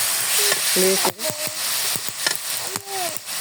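Chunks of beef stir-fry in a spiced masala with a loud, close sizzle and occasional scraping stir strokes, while a voice briefly speaks over the cooking.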